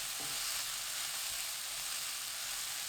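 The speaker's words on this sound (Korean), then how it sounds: "팬에 식용유 1큰술, 다진 마늘 1큰술, 파, 꽈리고추 넣고 센 불로 2분 볶습니다." Shishito peppers, minced garlic and scallions stir-frying in oil over high heat, a soft, even sizzle and hiss with faint stirring, quiet and continuous.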